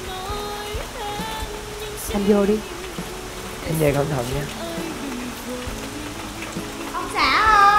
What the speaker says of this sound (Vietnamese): mưa rồi đó, vô nhà lẹ anh ơi